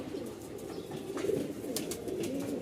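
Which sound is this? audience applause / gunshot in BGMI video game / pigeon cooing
pigeon cooing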